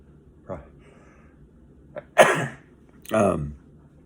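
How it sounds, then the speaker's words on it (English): One sharp, explosive sneeze from a person suffering a messy morning cold, bursting out mid-clip between softer breathy vocal sounds. "And I'm going to sneeze again."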